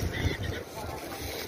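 A wooden rowing boat moves on the Ganges at Varanasi, giving a steady wash of water and wind noise, close and continuous with someone talking over it.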